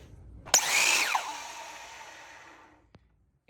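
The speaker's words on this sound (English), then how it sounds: "So we're going to cut this miter real quick." A miter saw makes one quick miter cut through baseboard: a sharp start, a loud whining cut lasting about a second, then the blade spinning down, followed by a small clunk.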